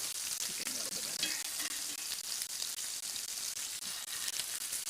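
Steak searing in a hot pan, a steady dense sizzle and crackle that holds at an even level throughout, close by with no talking.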